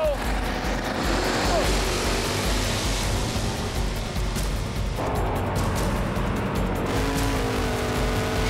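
Drag race cars launch side by side at Thunder Valley, Bristol, their loud, sustained engine roar filling the air with a broad rumble that shifts midway, and voices talk over the noise.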